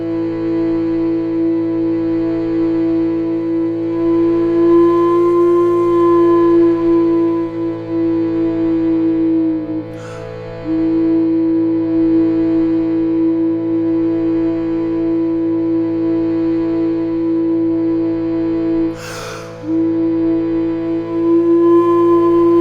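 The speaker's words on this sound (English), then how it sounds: "So I'm going to play the middle note, and it's one of the notes that the Shruti box is playing." Native American flute holding a steady middle note over a sustained shruti box drone, long tones with two brief breaks for breath, close and even, no talking.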